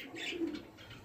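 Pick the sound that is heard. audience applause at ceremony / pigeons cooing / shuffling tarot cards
pigeons cooing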